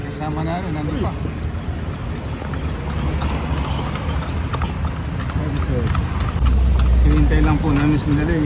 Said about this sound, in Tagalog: Nakasakay po tayo sa Kalesa.